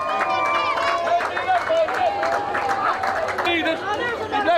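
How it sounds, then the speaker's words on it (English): A crowd lining a St. Patrick's Day parade route in Athy claps steadily and dense, overlapping applause runs throughout with excited voices and cheers mixed in. "so give them a huge round of applause, lads."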